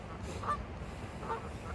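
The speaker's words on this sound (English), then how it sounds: "the geese agree over there, honk honk" Geese honk faintly in the distance outdoors, with a couple of soft calls spaced about a second apart over low background noise.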